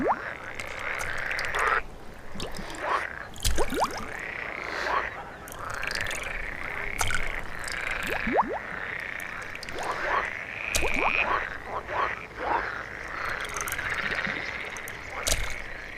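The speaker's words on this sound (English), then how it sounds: "where the air is filled with croaks and splashes" Frogs in an alpine pond croak in repeated overlapping calls, a dense chorus of raspy pulses, some near and loud, others fainter.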